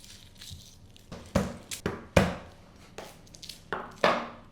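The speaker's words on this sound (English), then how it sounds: "the only other bit of prep we need to do is just to peel 4 bulbs of garlic" Garlic bulbs are broken apart and peeled on a board in about eight sharp, close thumps and cracks at an uneven pace, with quiet gaps between them.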